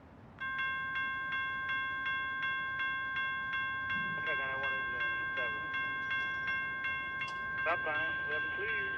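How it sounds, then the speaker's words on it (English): An Amtrak 91 passenger train starting to move: a steady ringing bell with regular chimes over a low rolling rumble, and a brief whistle-like squeal later on. "Here we see Amtrak 91 starting its move"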